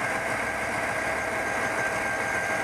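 Steady, even car engine hum at idle after a random multiple-cylinder misfire fix, with late ignition timing; a constant mid-pitched drone with a faint ticking texture and no speech.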